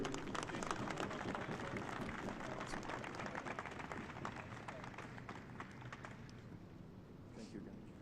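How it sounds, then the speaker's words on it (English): A crowd at the MLS NEXT Cup U15 Homegrown final ceremony applauds the officiating crew, giving a steady, distant wash of clapping that fades slightly toward the end. "one more round of applause for our officiating crew"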